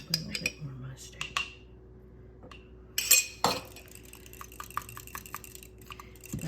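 A whisk clinking against a bowl while mixing salad dressing with mustard and garlic, giving bright metallic taps and scrapes in uneven bursts, close and moderately loud, with a louder clatter midway.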